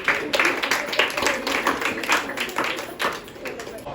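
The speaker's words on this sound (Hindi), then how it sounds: "ताली बजाएं इसके लिए" A group at a Good Friday night prayer quiz game claps for a participant, steady rapid hand claps from several people mixed with voices.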